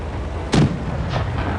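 A KV-1S tank cannon fires once in a video game, a sharp, loud boom followed by a short rumbling tail and a fainter echo; no talk over it.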